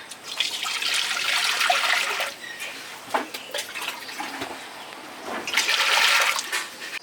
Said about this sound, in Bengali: কড়াইতে জল দিয়ে দিচ্ছে